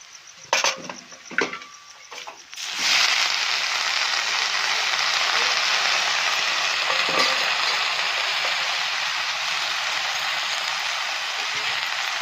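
Vegetables hit hot oil in a pan with a few sharp clatters, then a loud, steady frying sizzle that carries on evenly at close range as a homemade vegetable dish cooks.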